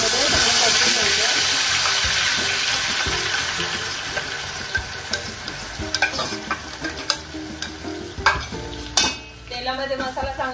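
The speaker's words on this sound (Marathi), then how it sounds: "1 वाटी आपल्याला कांदा खोबऱ्याचं वाटण तेलामध्ये चांगलं परतून घ्यायचं" Onion-coconut paste sizzling in hot oil for an egg curry, a loud steady hiss that eases as a spoon stirs and scrapes the pan in irregular close knocks.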